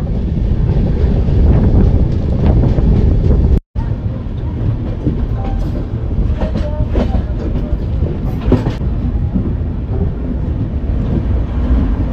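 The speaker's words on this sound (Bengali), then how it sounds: "এখন ট্রেন এসে ঢুকলো বোলপুর শান্তিনিকেতন" Train pulling into Bolpur Shantiniketan station at night, a heavy continuous rolling rumble with rhythmic wheel clatter and wind noise, loud and close, with a brief cut-out early on.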